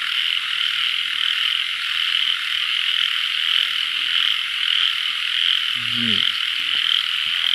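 Frogs croak at night in Isan rice fields. Brief low croaks stand out over a loud, steady chorus of night insects, with no talking.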